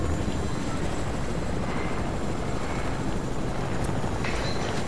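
A helicopter in the Fortnite video game gives a loud, steady whirring roar with a constant broadband rush that never lets up, and no one speaks over it.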